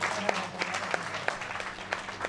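Audience at a Mumbai mushaira poetry gathering clapping, a moderate spread of hand claps with sharper individual claps standing out, somewhat distant and fairly soft over brief background chatter.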